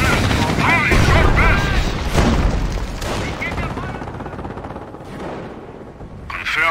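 Machine gun fire in the Company of Heroes World War II strategy game, set during Operation Market Garden: loud, sustained bursts of automatic fire mixed with explosions, and soldiers' shouted voices heard over the battle.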